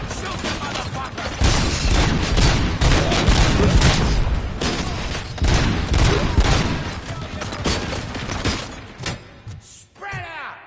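Heavy gunfire from RoboCop: Rogue City, dense bursts of rapid shots and booming impacts rattling almost continuously, loud and close, with shouting voices mixed in before the firing thins out near the end.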